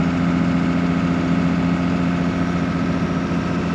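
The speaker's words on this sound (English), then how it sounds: "we're gonna be in the grinding tractor here for a minute or two" A farm tractor's engine runs steadily while pulling a BIG BITE tub grinder on hay bales, a loud, close, unbroken low rumble with no talking.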